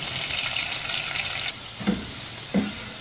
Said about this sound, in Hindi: हल्का सुनहरा इस प्याज को फ्राई करना है